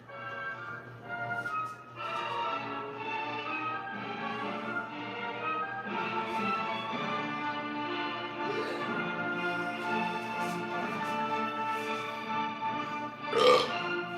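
A long, drawn-out burp runs for most of the span, loud and sustained, over a steady tonal musical backdrop, ending in a brief sharp burst near the end.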